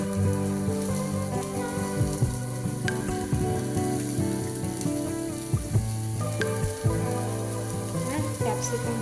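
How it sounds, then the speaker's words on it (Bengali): Chopped onion fries in hot oil with a steady close sizzle and crackle, with a few clinks and stirring sounds over a constant low hum. "তেলটা গরম হয়ে গেলে এরপর আগে দেবো পেঁয়াজ কুচি"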